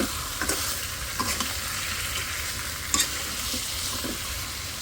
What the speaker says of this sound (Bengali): এটা আজকে মাছ ভাজছি